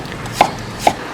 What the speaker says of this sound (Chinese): 我们给它切片。